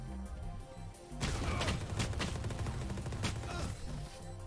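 Rapid bursts of gunfire from the Outlaw in Valorant, loud and close, with sharp repeated shots over a dense, roaring stretch of firing.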